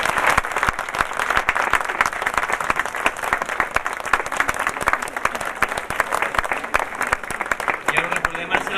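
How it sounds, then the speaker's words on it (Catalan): Loud, sustained applause from an audience at a Sant Jordi art gallery event in Sant Cugat, dense clapping filling the whole stretch without letup. "Un aplaudiment molt fort."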